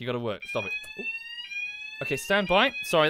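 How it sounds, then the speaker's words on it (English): A fire alarm sounds with steady high-pitched electronic tones that continue throughout, as someone talks loudly over it in short bursts. "that's a fire alarm, folks"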